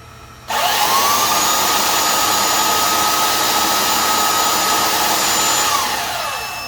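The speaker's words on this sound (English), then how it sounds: "So let's go ahead and turn on this belt sander." A belt sander powered by a 1500W pure sine wave inverter starts up with a loud, steady motor whine that holds close and constant for several seconds before winding down as the inverter cuts out.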